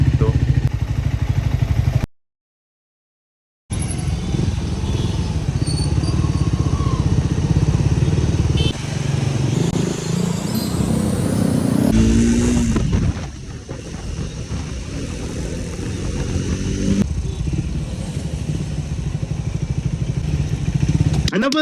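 A Triumph motorcycle engine runs loud and close, a steady rumble broken by a brief dropout, with wind buffeting the microphone and a voice speaking over part of it.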